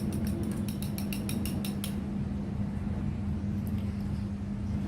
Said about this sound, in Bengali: এবার খুব ভালো করে আমি ডিমটাকে ফেটে নিব।